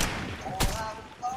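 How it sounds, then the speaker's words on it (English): A single sharp shotgun blast goes off in a battle-royale video game, one loud burst amid faint game ambience and tonal effects, with no speech. "A shotgun shot right here"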